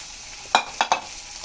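Chopped onion, garlic and green chillies fry in fish oil in a pan, a soft background sizzle broken by three quick stirring scrapes close by.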